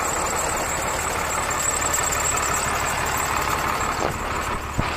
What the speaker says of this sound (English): Got the Cummins motor in it.